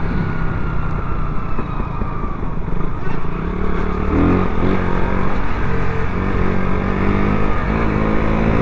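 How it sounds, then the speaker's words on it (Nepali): Several motorcycles roar past on a road in a bike rally between Gorkha and Hetauda in Nepal, forming a steady loud engine drone with rising revs and clattering mechanical noise near the listener. "के भिडियो बाइकको र्याली निक्लियो क्या यार"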